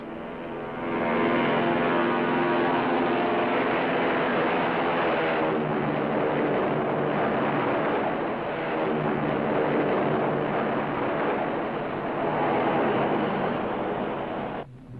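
A steady, loud drone of Grumman Avenger torpedo bomber engines from an RNZAF formation, a rich rumbling roar that holds almost unbroken for the whole stretch before cutting off at the end.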